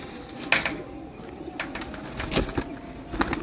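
Sialkoti flying pigeons cooing in a loft, soft repeated coos and bursts of fluttering at moderate distance over a faint background hiss.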